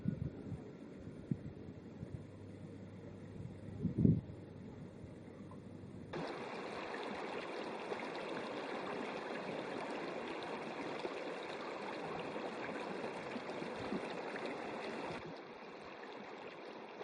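The Kartagon river flows steadily where it joins the Kitoy, a continuous broad rushing wash that starts partway through, runs evenly and then drops back to a quieter murmur near the end. No voices are heard.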